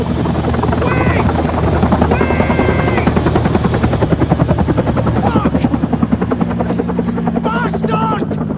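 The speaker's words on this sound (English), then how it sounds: "trying his best to keep the helicopter here" A helicopter in a video game set at an ocean oil rig, its loud close rotor thumping steadily throughout as voices shout over it.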